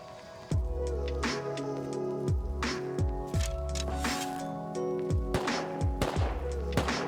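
Gunfire in the survival video game Rust, a series of sharp shots scattered irregularly over several seconds, moderately loud with some reverberant tails and no talking.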